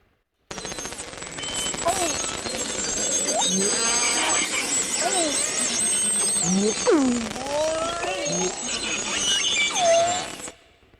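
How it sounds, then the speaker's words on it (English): Dense underwater chorus of beluga whale whistles, chirps and squeals with rising and falling tones, crackly clicks and buzzy electronic-sounding calls, continuous and fairly loud. "These are belugas."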